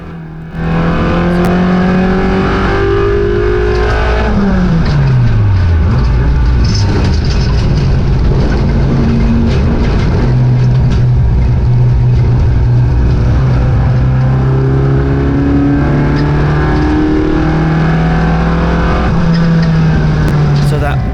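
A race car engine with gear selection trouble roars close by at Castle Combe circuit, revving up and down with shifting pitch and gear changes, while other cars pass and drone in the background.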